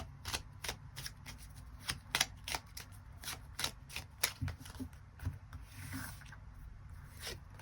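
Tarot cards are shuffled and drawn by hand, giving a quiet, close series of soft rhythmic riffles and papery taps, then a gentler rustle near the end.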